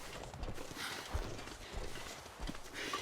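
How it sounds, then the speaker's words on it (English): Heavy footsteps thud in The Long Dark, a winter survival game, a steady run of dull impacts that sounds almost like hooves, close and moderately loud over a constant wind-like background. "That's really heavy footsteps there."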